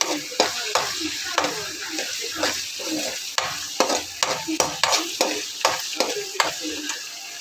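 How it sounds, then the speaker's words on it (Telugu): Onions going into a hot oil tempering of cumin, mustard seeds, urad dal and dried red chillies for gongura pachadi: a steady close sizzle with repeated rhythmic scrapes and clinks of stirring throughout. "పోపులోనే ఉల్లిపాయలు వేసుకుందాం."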